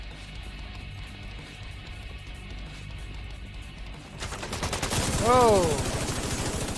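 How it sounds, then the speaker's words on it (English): Gunfire in the video game The Division 2: low rumbling game noise, then a loud burst of rapid automatic shots near the end, with a brief voice exclamation. "We're already getting shot at, whatever. I've been shooting at people."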